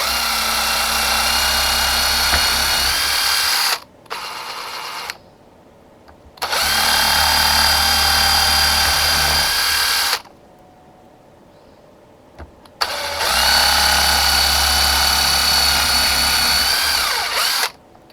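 A power drill bores into a butterfly and frame craft piece in three long, loud, steady whining runs, separated by a brief short burst and silent pauses, with no talk.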